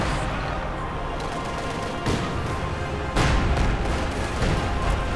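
Machine gun fire from a Soviet light machine gun in a Company of Heroes 2 battle, heard as a dense, continuous crackle of shots. Louder bursts swell in twice over a constant roar of combat.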